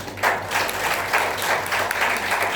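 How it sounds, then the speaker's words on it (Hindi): An audience at a public talk in Sonbhadra district claps hands together in a steady burst of dense applause that lasts throughout, fairly loud and with no talk over it. "आप सब अपने सही उत्तरों पर ताली बजा दो"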